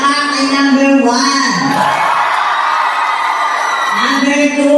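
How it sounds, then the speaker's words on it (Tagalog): Crowd at a San Fernando town festival stage show cheering and whooping loudly in a sustained roar, with the voice of a host calling out before and after the swell. "Palakpak ay number 1."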